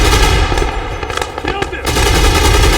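Machine-gun fire in a military video game: rapid, loud, close bursts of shots in quick rhythm, with a brief lull before the firing picks up again.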